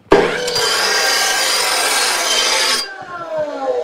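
A coped steel bumper tube is deburred, a loud, steady rasping grind lasting nearly three seconds before stopping abruptly, followed by quieter scraping.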